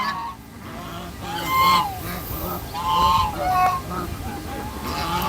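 Chinese geese honk repeatedly nearby, loud and overlapping, over a noisy farmyard background.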